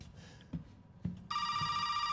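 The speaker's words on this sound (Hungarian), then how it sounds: "Megint egy telefon, ezt felveszünk." A telephone rings inside the Resident Evil 7 video game: after a couple of dull thuds, a loud, continuous electronic ring starts abruptly and carries on steadily.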